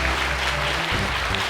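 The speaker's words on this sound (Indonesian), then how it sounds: "Tepuk tangan untuk langit." Studio audience applauding on an Indonesian televised Quran memorization competition show, a dense steady wash of clapping with low music-like tones underneath through the short stretch.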